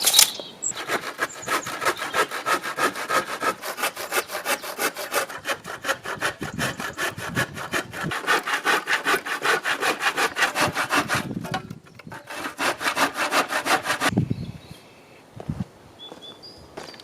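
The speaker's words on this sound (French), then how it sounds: "on va découper la palette" A handsaw cuts through a wooden pallet with steady, rapid back-and-forth strokes, close and loud, pausing briefly near the end before a few final scrapes.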